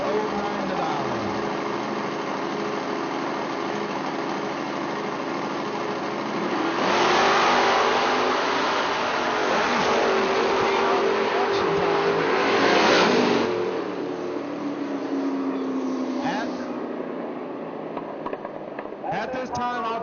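A Nova and a Camaro launch at a footbrake drag racing event, their engines roaring hard and close, with a loud surge of revving at about seven seconds that rises and fades as the cars pull away, with an announcer's voice over the scene.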